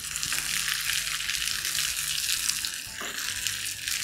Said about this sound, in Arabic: دلوقتي البصل هيحمر